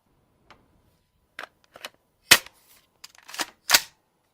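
Sniper rifle fired through an empty beer keg: a few sharp, loud cracks and bangs spread over several seconds, the strongest two close together near the end, with quiet gaps between.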